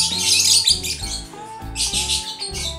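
A male lovebird in a round cage chirps and tweets excitedly after a female is introduced, a close run of bright, rapid squeaky calls in several bursts.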